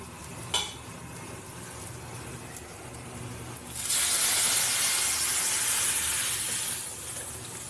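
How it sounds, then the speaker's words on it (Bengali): A loud sizzling hiss suddenly bursts up as lentils hit a hot pan of fried bitter gourd, then settles into steady frying that gradually eases. "ডালটা দিয়ে দিলাম, এবার ফুটতে থাকুক ডালটা"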